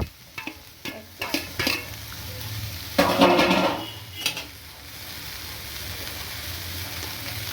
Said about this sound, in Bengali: এবার আমি জিরে বাটাটা দিয়ে দেব